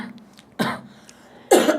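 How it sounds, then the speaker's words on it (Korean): Two sharp coughs, close and fairly loud, spaced about a second apart over a quiet background. "다 기침들을 하시느라고"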